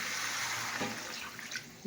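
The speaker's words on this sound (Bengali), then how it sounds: "জল দিয়ে দিলাম।" Water poured into a cooking pan holding stirred spices, a steady splashing pour heard close and fairly quiet for the whole moment.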